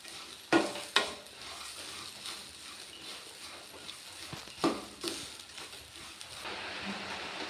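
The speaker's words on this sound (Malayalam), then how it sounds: "അതുവരെ നമുക്കതൊന്ന് ഇളക്കി കൊടുക്കാം." Coconut roasting in a pan over a medium flame and being stirred, a dry scraping rustle broken by a few sharp knocks of the spoon against the pan.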